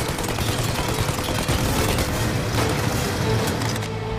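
Gunfire rattles in the video game Mafia: Definitive Edition during a chase after a plane, a dense continuous barrage of shots and bursts over loud background action.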